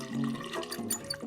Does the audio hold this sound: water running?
yes